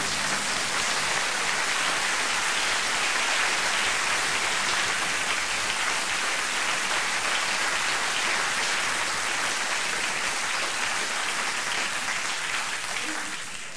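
A concert crowd in New York claps in a long, dense, sustained wave of applause that stays loud and even throughout, like heavy rain.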